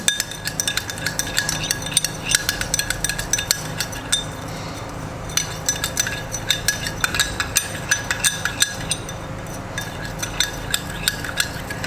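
A spoon slowly stirs egg white mixed with coffee and honey, giving a steady run of light clinks and scrapes against the bowl over a faint background hum, with no talking.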